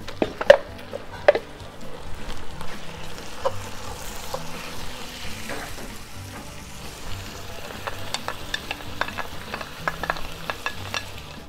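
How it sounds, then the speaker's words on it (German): Beef, onions and garlic sear in a Dutch oven for a goulash cooked over fire, giving a steady sizzle and crackle throughout with occasional sharp clicks and stirring noises, fairly close and alone without talk. "Das Fleisch haben wir jetzt kurz mit angebraten."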